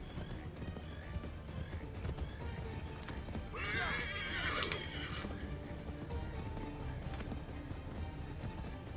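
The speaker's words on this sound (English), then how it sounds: "My horse is kind of going slow here." A horse in the video game Assassin's Creed 3 moves along with soft clip-clop hoofbeats and a brief whinny near the middle, all fairly quiet over a busy game soundscape.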